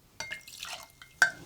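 Vodka pours into a small measuring glass, giving faint liquid trickles and drips plus a couple of sharp glassy clinks close by in a quiet room.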